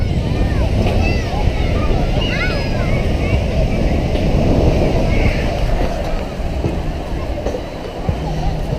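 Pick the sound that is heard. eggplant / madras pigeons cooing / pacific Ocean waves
pacific Ocean waves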